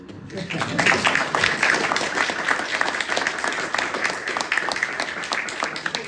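An audience claps at a PhD award event, building quickly from near silence to a steady, lively round of applause that holds at a similar level for several seconds.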